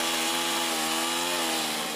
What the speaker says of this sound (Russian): утром разбудил рев бензопил.